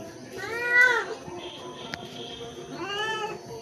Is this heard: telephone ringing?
no